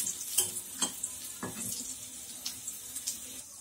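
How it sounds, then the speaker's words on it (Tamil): Cashews and raisins fry gently in ghee in a kadai, a faint sizzle punctuated by several light scraping stirs spaced through the clip; quiet and close, with no talking. "அதில் கொஞ்சமாக முந்திரியும் திராட்சை வறுத்துக்கலாம்"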